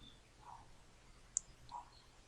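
A single sharp computer mouse click lands about midway through, crisp and close against a quiet room hum, followed by a softer faint tick.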